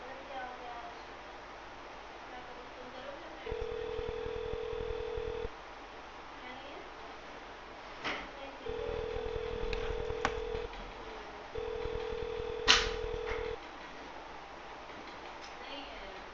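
A phone line calling a scam call center gives repeated tones in three separate two-second bursts, each over a buzzing line with clicks between them and no clear speech.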